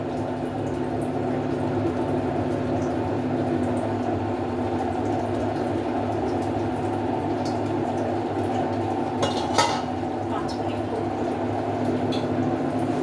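Potato and fish curry boiling hard in a pot as pieces of fish go in, a steady close bubbling and simmering with a brief splash partway through.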